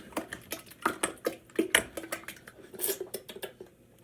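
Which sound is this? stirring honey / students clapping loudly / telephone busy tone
stirring honey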